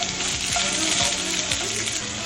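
Sliced onions sizzle in a pan sprayed with olive oil, a loud, close and steady hiss with a few faint scrapes underneath and no voices.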